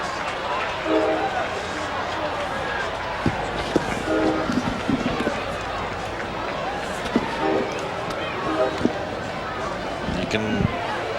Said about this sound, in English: Sense the freight train.